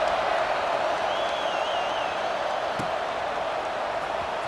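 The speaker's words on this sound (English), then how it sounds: "this crowd is buzzing after that last score" A stadium crowd in the video game College Football 26 buzzes after a score, making a dense, steady roar with a faint whistle-like tone, distant and continuous.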